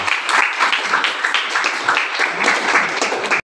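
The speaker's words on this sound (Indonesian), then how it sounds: "Tepuk tangan dulu." A school class of students applauding together, dense and loud continuous clapping from a group indoors that stops abruptly at the end.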